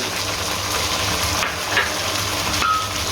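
Kabab masala for Afghani malai seekh kababs roasts in a pan with a steady, dense sizzle and faint scraping of stirring, close and fairly loud throughout.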